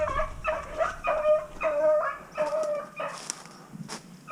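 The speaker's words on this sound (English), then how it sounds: "That dog's about to catch it." A hunting dog on public land in Ohio chases a rabbit, letting out a rapid series of high, yelping barks and bays in quick bursts, fairly close, tapering into scattered yips.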